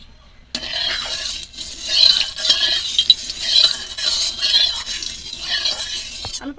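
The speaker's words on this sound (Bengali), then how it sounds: "আমি প্রথমে চিংড়ি মাছগুলো ভেজে নেব।" Prawns fry in hot oil in a wok, a bright crackling sizzle that swells and fades with scattered pops and a few clinks of a stirring utensil, close and loud.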